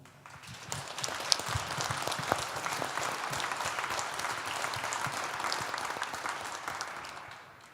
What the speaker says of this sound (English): I believe they all deserve a good round of applause